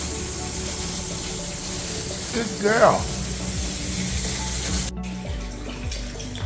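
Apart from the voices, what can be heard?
aquarium water change, draining guppy tank water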